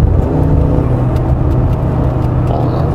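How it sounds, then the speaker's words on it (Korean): A 2020 Mercedes-Benz GLB 250 4Matic in sport mode, its engine and exhaust a loud, steady low rumble heard from inside the cabin, droning evenly with slight fluctuations throughout. "엔진 소리랑 배기음도 조금 더 커지는 것 같아요"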